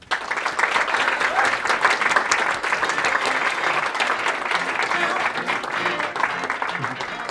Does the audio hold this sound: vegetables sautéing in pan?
no